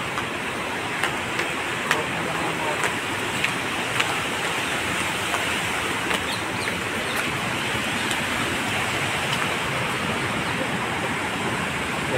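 Heavy rain pours near a waterfall at a cave temple, a dense, steady roar of rushing water that fills the whole space, broken by a few faint drips and clicks close by.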